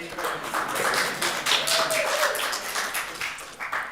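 A small Torah study group gives a lively round of close hand clapping for the person who picked up the morning bagels, with the clapping steady and fairly loud throughout.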